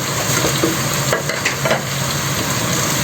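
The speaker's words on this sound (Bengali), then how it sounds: "মশলাটা আর সবজিটা একটু নাড়া দিয়ে নিলাম কিছুক্ষণ" Spices, onion, garlic and vegetables being stirred and fried in a pan, giving a steady close sizzle with a few soft scraping strokes from the stirring.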